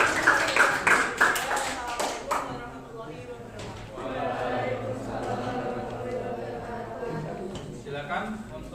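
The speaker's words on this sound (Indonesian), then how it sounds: "Tepuk tangan." A classroom group claps briefly at the end of a teaching session, a short burst of hand claps in the first seconds followed by a room with people talking.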